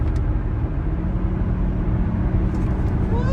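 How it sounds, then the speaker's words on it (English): A Hornet car floored from 71 mph with its paddle shifters: a loud, continuous engine and road roar close by, with a rising whine near the end. "I'm going to floor it and hit these paddles and watch this go vroom vroom"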